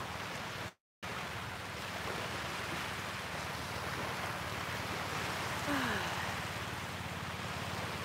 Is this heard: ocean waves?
yes